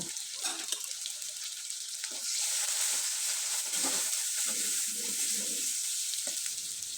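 Chopped onion, garlic and ginger fry in hot oil with black cumin seeds, a steady bright sizzle with soft scraping stirs scattered throughout, close up with no talking.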